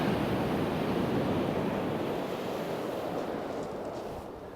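Strong wind buffets the microphone on Chesil Beach while surf rolls in close by, a steady loud roar of rushing air and breaking waves that eases slightly toward the end, with no talk.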